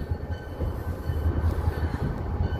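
A passenger train pulls into Kitchener GO station, an old red-brick station, with a steady close low rumble and faint rail clatter throughout, no voices heard.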